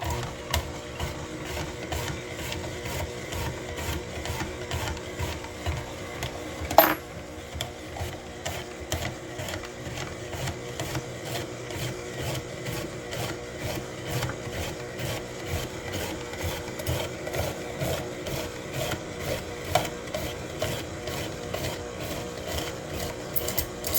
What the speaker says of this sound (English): The one zucchini is all sliced up.